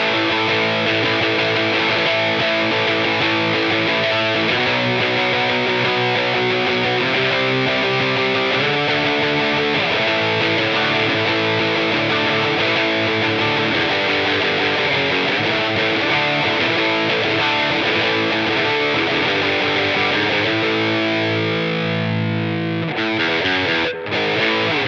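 Electric guitar played through a 20-year-old budget distortion pedal, loud continuous fuzzy riffs and sustained chords that are somewhat harsh and buzzy, with no talking, ending in a brief crackle.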